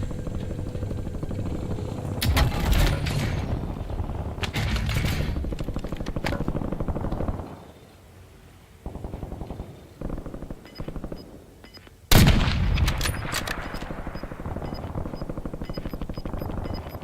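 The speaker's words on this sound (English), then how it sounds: "I'm under fire." Video-game gunfire erupts in loud, close bursts of rapid automatic shots, breaking off into a quieter gap before another heavy volley hits and keeps rattling.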